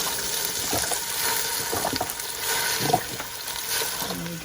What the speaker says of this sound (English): we're going to do 4 cups of stock in this pot